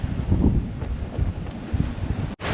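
Gusty wind rushes across the microphone aboard a sailboat running along a coastal lagoon in about 20 knots of wind, a continuous rumbling roar that briefly cuts out near the end.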